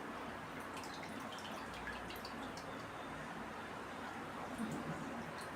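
Tamarind water for kara kulambu is filtered, giving a steady trickle with soft drips and splashes, fairly faint and continuous throughout.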